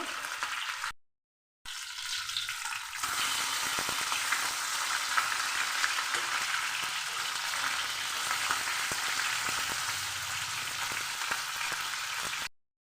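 Two rohu fish pieces fry in hot oil, giving a continuous close sizzle with light crackles that briefly drops out early on, then runs steadily before stopping at the end.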